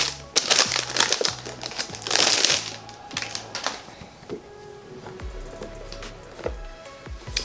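Plastic wrapping on a makeup brush box crinkles and crackles up close in irregular bursts, with tapping and handling noises between them.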